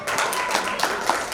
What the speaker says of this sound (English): Give applause once again for Group 12.